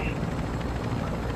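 A helicopter's steady rotor thrum and engine drone fill a Call of Duty Warzone match, fairly loud and continuous, with a voice talking over it.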